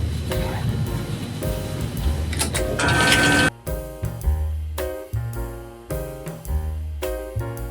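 A longarm quilting machine stitches a quilt, starting with a continuous mechanical whir, then running in short repeated bursts of rapid stitching separated by brief pauses, close and steady.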